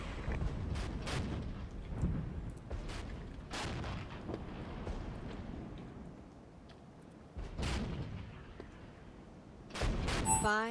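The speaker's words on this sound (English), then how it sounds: "Of course, we're going to be hitting them with artillery." Artillery fires in the Cold War wargame Regiments, with repeated deep booms landing at uneven intervals over a constant low rumble of battle and a burst of rapid cracks at the close.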